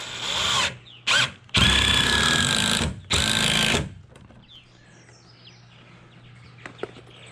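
Power drill driving screws into a wooden 2x4 on a building project: several loud whirring bursts of a few seconds each separated by short pauses, then quiet handling sounds with a faint steady hum.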